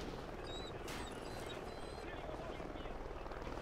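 A helicopter in the video game Call of Duty: Ghosts thrums as a steady, fairly quiet rotor drone, with faint game effects over it and no talking.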